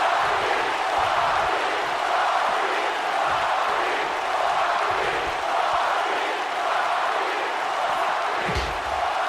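A wrestling arena crowd in the WWE 2K video game roars loudly and steadily, a dense wash of cheering that stays constant throughout with a brief thump near the end.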